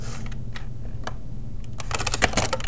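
Rapid typing on a computer keyboard, a steady clatter of close keystrokes that quickens and grows louder toward the end, with no voice.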